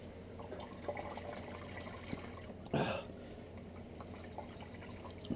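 Hot wort drains from a brew bag into a kettle while brewing a German Imperial IPA, a faint trickle and drip of liquid with one brief louder splash as the bag is pressed.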